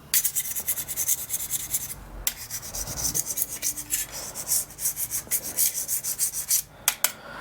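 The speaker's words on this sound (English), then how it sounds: "So I've ended up resorting to a little scraper" A small hand scraper rasps hardened, concrete-like grime off a Warco GH1440 metal lathe during a deep clean, a steady run of close, rough scraping strokes with brief pauses.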